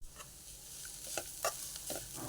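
Grated carrot fries in a pan with a quiet steady sizzle, broken by a few sharp scraping stirs.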